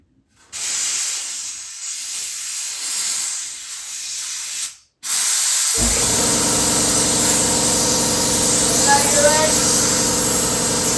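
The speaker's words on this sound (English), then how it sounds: "A couple more brake cleans, a couple more air, and hopefully clean that line out." Brake cleaner and compressed air blast through an engine line during a VW Beetle engine install, two loud, close hissing sprays, the first a few seconds long, the second longer over a steady engine rumble.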